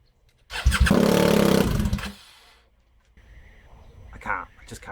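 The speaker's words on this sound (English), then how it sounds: "Shall we just see what it sounds like without the silencer?" A BMW R1200R motorcycle engine runs without its exhaust silencer, giving a loud, raw rumbling blast for about a second and a half before dropping away to quieter low-level sounds.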